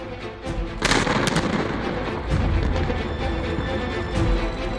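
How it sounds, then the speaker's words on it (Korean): The inter-Korean joint liaison office is blown up in a large demolition blast, with a sharp booming detonation followed by rumbling crackle and further bursts of debris and reverberation, loud and sustained with no talk. "남북 공동 연락 사무소를 일방적으로 폭발을 시켰죠"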